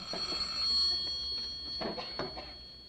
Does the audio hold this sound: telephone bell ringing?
yes